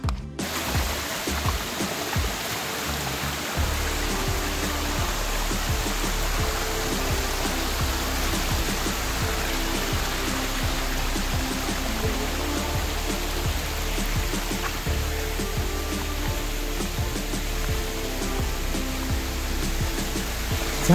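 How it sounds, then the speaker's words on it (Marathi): A natural waterfall near Siddhagad pours down from above in a continuous, dense rushing roar, a brief quieter moment at the start before the full wash of water settles in. "कसा हा नैसर्गिक धबधबा वरनं पडतोय"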